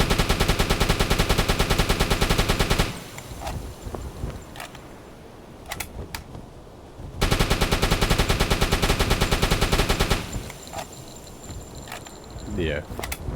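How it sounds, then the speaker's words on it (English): A submarine deck machine gun firing high explosive rounds in UBOAT near Iceland's Glettinganes Peninsula, two long rapid bursts of evenly spaced loud shots, each followed by scattered faint pops and crackles before the next burst. "I will try to use a machine gun still, because we have high explosive ammo"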